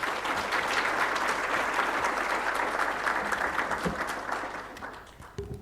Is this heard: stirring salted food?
no